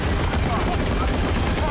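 Dense, continuous gunfire from a World War II tank battle in the film Fury, loud and close, mixing heavy rapid bursts with rumbling explosions and some voices underneath.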